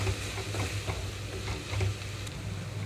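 Tomatoes cook gently in a pan on a low flame, giving a soft, steady bubbling sizzle with faint ticks and a low hum beneath, quiet and close, with no one speaking.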